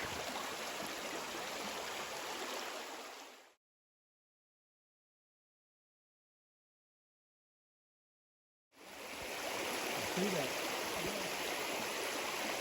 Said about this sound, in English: This is the beautiful No Business Creek.